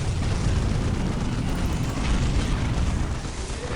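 A Predator tank's single las cannon in Dawn of War fires with a loud, continuous, heavy roaring blast that holds steady throughout amid battle noise.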